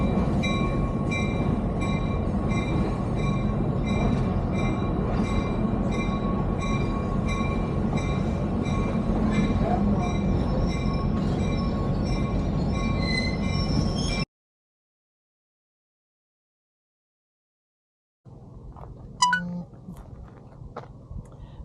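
A Nevada Northern Railway train at the station makes a steady close rumble with high, ringing squeal tones for about fourteen seconds, then falls silent before a few faint knocks and clatters.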